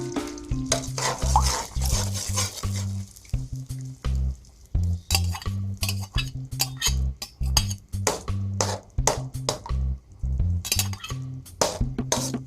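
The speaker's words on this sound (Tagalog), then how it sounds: "atin pong gigisahin itong ating itlog" Eggs frying and being stirred in hot oil in a pan for scrambled eggs with cabbage, with steady sizzling broken by repeated rhythmic scraping and clinks of a utensil against the pan, close and loud, no talk.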